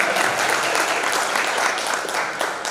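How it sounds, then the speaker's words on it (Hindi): Audience applause at a Hindi kavi sammelan poetry gathering at Kalidas Academy in Ujjain: a dense, steady burst of many hands clapping that fills the whole moment without pause. "वाह, ताली बजाइए।"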